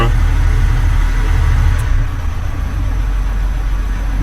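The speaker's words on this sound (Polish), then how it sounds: "dodaj gazu no nie będziemy tu dawać wysokich obrotów, bo silnik jest zimny" A cold car engine runs steadily at a low, gentle rev just under 2000 rpm, a constant rumbling hum that dips slightly partway through without any sharp acceleration.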